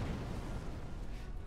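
Starship weapons fire in the Star Trek Online space combat game, a dense, continuous low rumble of blasts and booms filling the whole moment at moderate level.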